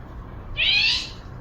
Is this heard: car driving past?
no